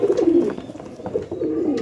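Pet pigeons coo in soft, low, repeated rolling phrases close by, with several birds overlapping and no voices heard.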